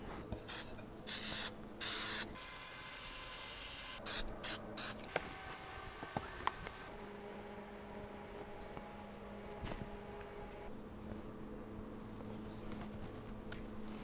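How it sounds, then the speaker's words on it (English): A can of spray adhesive is held upside down and sprayed to clear its nozzle, giving several short, close hissing bursts with quiet pauses between them. "clean out the nozzle of your spray adhesive by spraying it upside down"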